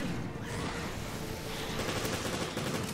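Rapid pistol gunfire from Resident Evil: Revelations, a dense, loud volley of shots blended with game effects and background sound over the full stretch, with no voices.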